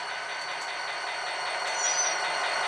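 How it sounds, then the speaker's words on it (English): A steady, loud rumble of an HO scale Rapido EMD GP40 model locomotive running, with a thin high squeal of brakes rising briefly near the end. "You hear the brake squeal, we'll go in reverse."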